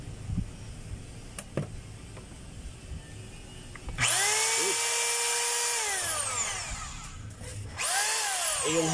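A DeWalt D25033 rotary hammer on a test run: after a few seconds of quiet talk and handling, a loud, high motor whine spins up and holds, drops off briefly, then starts again.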